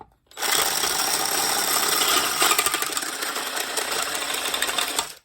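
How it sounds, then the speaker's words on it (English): A power screwdriver whirs against a mannequin head being made into a planter, one continuous buzzing, rattling burst of about five seconds, close and fairly loud. "Let's see if this screwdriver will do this."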